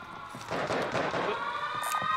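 A wailing electronic siren in Call of Duty: Warzone drones steadily, with harmonic tones and bursts of game noise around it, loud and continuous.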